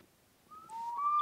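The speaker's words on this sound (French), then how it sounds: "ce sont des vases siffleurs" Whistling vessels, copies of ancient Peruvian Vicus and Nazca-area vases, give thin, sustained, birdlike tones that overlap and slowly grow louder. They sound close and clear, with no talk.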